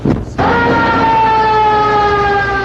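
A wailing ambulance siren sounds loud and near on a South Bronx street, a steady rising tone holding after a brief burst of traffic noise at the start.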